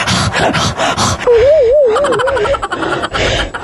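A person makes breathy, gasping pants in quick bursts, imitating a winded horse, with a wavering whistle-like tone partway through.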